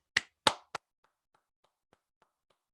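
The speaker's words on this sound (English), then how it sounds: "they deserve a special round of applause from all of us." A few loud claps in quick succession at a university math diploma ceremony, then a scattering of faint, sparse claps trailing off, like a small group applauding briefly.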